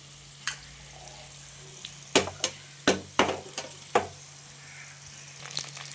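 Shallots dropped into garlic already frying in a pan for poondu kulambu, giving a soft continuous sizzle broken by several sharp scraping and stirring clatters of a spoon against the pan.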